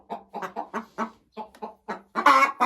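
A laying hen clucks at its nest in a series of short, rhythmic bursts, close and fairly loud, rising into a louder squawk at the end.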